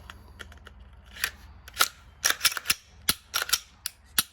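A Glock 43X or 48 pistol with a freshly installed Shield Arms mag release being cycled: a series of sharp, close mechanical clicks and snaps of slide and trigger, irregular and growing louder, with no talk.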